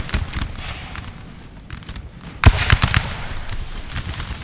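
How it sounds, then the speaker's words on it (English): Rocket artillery fire in Napoleon Total War during a historical battle at Lundy's Lane in 1814, with bursts of crackling, popping impacts amid a continuous roar of battle noise, peaking in a loud cluster midway. "Artillery's coming in as well. The rockets causing as much havoc as possible."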